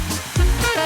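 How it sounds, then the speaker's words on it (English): A blow dryer dries a sheet of wet paper in a short, steady whoosh of airflow with a low rumble swelling midway, close by and without talk. "And then dry it properly with a blow dryer."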